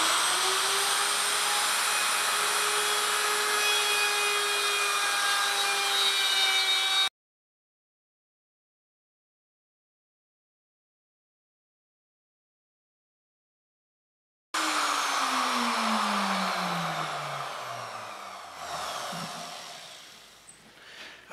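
A power tool on a circle cutting jig takes a quarter-inch-deep first pass in three-quarter-inch wood stock, running as a steady high whine for several seconds, falling silent, then starting again and winding down in pitch. No talking.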